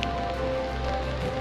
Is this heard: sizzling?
no